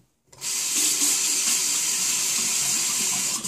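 Tap water runs steadily over a shoe-cleaning brush at a sink, a loud continuous hiss that starts abruptly after a brief silence and holds evenly to the end.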